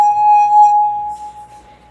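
A wine glass rung by a finger circling its rim gives a pure, loud, close tone that sustains steadily, then slowly fades with a gentle wavering.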